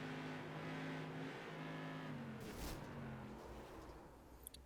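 Race car engines roar in an iRacing simulation of Whelen Tour Modifieds at Richmond Raceway, a sustained multi-car drone that shifts pitch as cars collide and get wrecked, with a brief sharp impact near the end.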